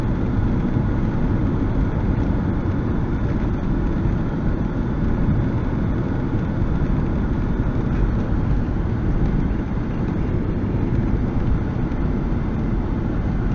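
A 1987 Mercedes-Benz 560SEL cruising on open roads, its engine and road noise forming a dense, steady low rumble that holds constant throughout with no talk over it.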